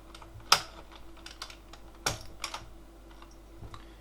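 Keycap being pulled off an IBM buckling spring mechanical keyboard, giving a few sharp plastic clicks and snaps with small rattles in between, close and fairly quiet.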